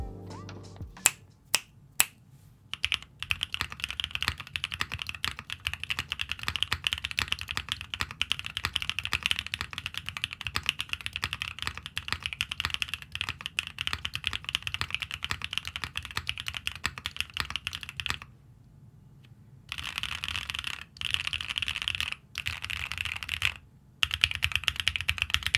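Stock ICONLABS First Love mechanical keyboard switches being typed on steadily, a close, dense clatter of keystrokes that runs nearly continuously, with a few separate sharp clicks at the start and brief pauses near the end.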